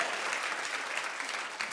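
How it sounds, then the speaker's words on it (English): A studio audience at a daytime TV talk show breaks into steady, dense applause, many hands clapping together in a continuous wash of sound with no talking over it. "Suzanne led the charge in clapping."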